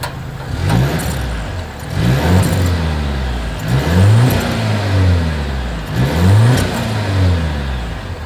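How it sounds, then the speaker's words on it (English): A 2023 Volvo XC90's exhaust revved repeatedly from the rear, with four rising, strong blips roughly two seconds apart over a steady low idle, fairly loud and close. "exhaust clip."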